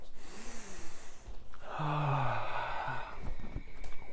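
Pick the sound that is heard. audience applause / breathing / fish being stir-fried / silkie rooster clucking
breathing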